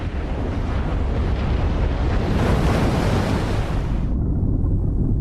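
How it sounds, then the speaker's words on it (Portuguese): A giant wave triggered by an earthquake engulfs Alexandria, heard as a loud, continuous roaring surge of rushing water and wind-like noise that stays dense throughout and then cuts off sharply near the end. "O terremoto provocou uma onda gigantesca que engolfou Alexandria"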